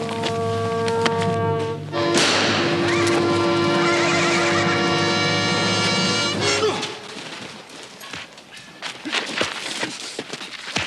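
A horse lets out a loud, drawn-out whinny lasting several seconds, followed by quieter shuffling and scattered thuds.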